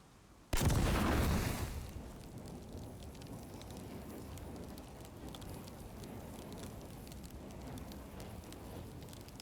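A single heavy blast goes off in the survival video game Icarus, a loud sudden boom that rolls off over a second or so into a lingering crackling rumble.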